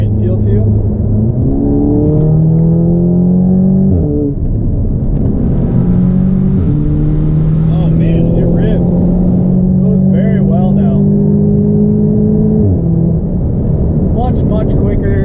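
An Audi S3 with a Stage 2+ tune revs and accelerates repeatedly, rising pitch sweeps as it climbs through gears, loud and close throughout with a steady deep rumble underneath.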